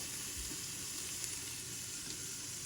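Garlic sizzles in olive oil, with bacon fat in the pan, as greens are prepared for a stir fry. It makes a close, steady, loud frying hiss with faint stirring clicks and no talk.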